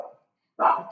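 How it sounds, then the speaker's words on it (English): Dog barks close by: a short bark, a brief silence, then a louder second bark, with no talk. "there might be doggies barking"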